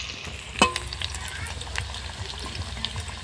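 Raw banana chops frying in oil over a clay stove, a steady close crackling sizzle with a sharp pop near the start and light bubbling throughout, no talk.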